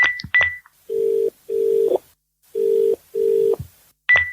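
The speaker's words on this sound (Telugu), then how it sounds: "ఏంటి నాన్న ఫోన్ లిఫ్ట్ చేయట్లేదు?" Telephone keypad tones at the start give way to a repeated ringback tone in long even pulses, unanswered. A few more dialing beeps follow at the end, all loud and clear with no talk.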